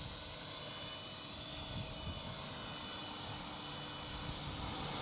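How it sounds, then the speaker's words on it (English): A Roban MD500 'Little Bird' model helicopter flies at a 1600 RPM head speed, its rotor giving a steady, high-pitched whine and whir that holds level and close throughout with no talking. "Helicopter is flying really nice."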